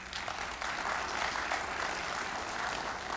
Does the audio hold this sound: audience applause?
yes